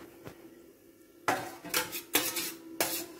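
Fried coconut pieces tip into wheat unniyappam batter in a bowl, a quiet spell followed by four sharp clinks and scrapes of a spoon against the bowl, close and alone.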